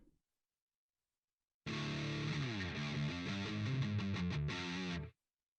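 A recorder plays a short melodic run through heavy distortion from a Zoom R8 effects patch, buzzy and harsh, sustained for a few seconds after a stretch of silence.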